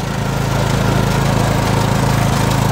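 A lawn mower engine chugs loud and close with a steady pulsing rhythm as someone rides off on it, with no talking over it.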